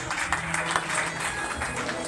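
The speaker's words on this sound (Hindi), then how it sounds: "भाई तालियां बजनी चाहिए।" An audience at an evening Shri Jhulelal Chaliha gathering claps steadily in a soft, continuous patter of applause at moderate distance.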